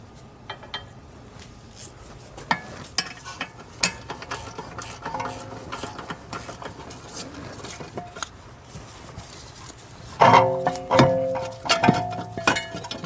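Removal of the second caliper bracket bolt on the rear brakes of a Mercedes S550, heard as a series of close metallic ratchet clicks and tool clatter that builds to a louder burst near the end.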